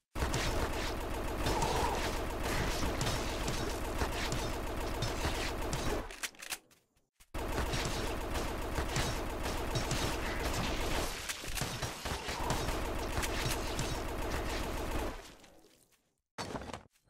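Assault rifle fire in the shooter game GRAV Reborn: long, dense bursts of rapid automatic shots, broken by two brief silent gaps, with no talking.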